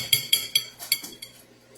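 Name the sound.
spoon clinking against dishes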